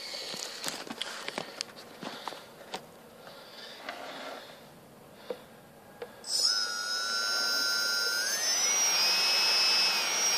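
Turnigy Multistar 350 QX quadcopter with upgraded motors spools up after scattered handling clicks and taps, then holds a steady, close, rising whine with rushing airflow from the top cooling ports.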